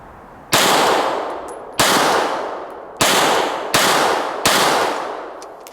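Five loud 9mm shots from a Sig Sauer P320 pistol fired at a target, spaced about a second apart, each a sharp crack followed by a long echoing decay, with no talking.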